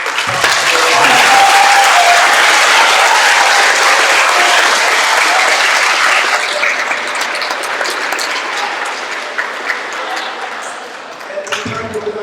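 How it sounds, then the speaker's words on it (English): Sustained audience applause fills a middle school Black history program hall, loud and dense from the start, easing gradually and thinning out near the end. "another round of applause"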